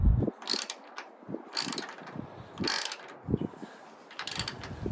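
A ratchet tightens bolts on a four-link to leaf spring conversion, with several short bursts of rapid clicking close by, separated by low thuds and brief quiet gaps.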